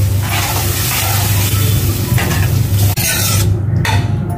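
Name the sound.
stirring mashed vegetables into frying pav bhaji spices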